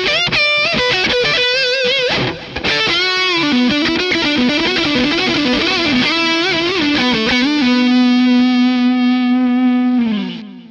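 An Orange Dark Terror guitar amp head with delay, played on the neck pickup in a rock-infused blues style. Loud, distorted lead guitar with bending sustained notes and fast runs, ending on a long held note with echo.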